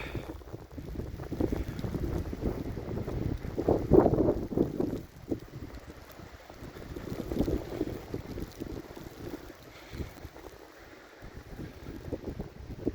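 Gusty wind buffets the microphone with a low, rumbling roar that swells and fades in waves, with water and boat noise faintly beneath.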